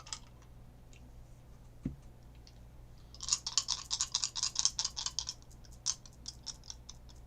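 Astrology dice rolled by hand, a quiet lead-in and then a quick flurry of light clicks and rattles as the dice tumble and settle, close up with no talking.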